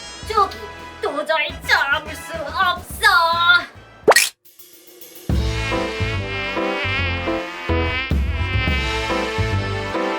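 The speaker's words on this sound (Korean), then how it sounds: "이게 무슨 소리지? 어, 모기?" A high, thin mosquito-like whine drones along with sung melody and music, and children's voices appear at the start.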